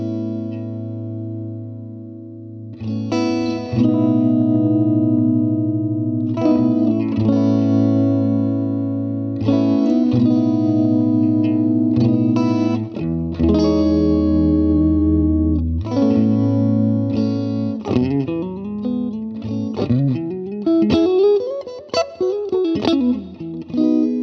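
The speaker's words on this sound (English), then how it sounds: "I'm gonna use the Catalina Bread cloak for some reverb, just so you can hear like a little bit more washed out kind of sound." An electric guitar played through a Vox AC30 amp with a Catalina Bread Cloak reverb pedal rings out in sustained chords and slow, washed-out phrases, each decaying into a long, spacious tail. Later it moves into bending, wavering notes, with no talking.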